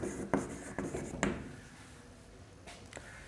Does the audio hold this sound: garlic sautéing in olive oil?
no